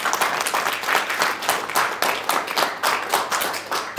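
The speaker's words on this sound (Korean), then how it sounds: "박수로 격려해 주겠습니다." An audience at a political lecture in Gwangju claps in sustained, energetic applause, with dense overlapping handclaps that swell in rhythmic waves and no voices over them.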